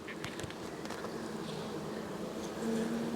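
Honeybees buzz in an open hive while honey supers are added. The close, continuous droning hum swells slightly toward the end, and a few soft knocks sound early on.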